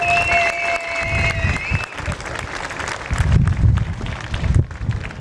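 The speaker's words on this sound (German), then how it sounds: "Und noch einmal Applaus für Spirsino und Matti Spirs." Crowd applause for IDM Superbike racers at a Sachsenring podium ceremony, a dense continuous clapping wash over a few seconds, mixed with crowd noise and a faint tone early on.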